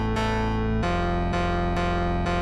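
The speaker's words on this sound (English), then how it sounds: "I'll add this power chord synth" Power chord synth in a Sprunki remix, thick sustained distorted chords changing pitch roughly every half second to second, with sharp bright attacks at each change and a steady low sub bass underneath, loud and continuous with no talking.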